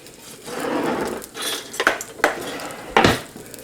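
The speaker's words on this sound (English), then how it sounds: "And I'm stirring that all together" Stirring flour, beef broth powder and dehydrated mixed veggies in butter in a pan, a soft scraping swirl followed by several sharp metallic clinks of a utensil against the pan, close and without talk.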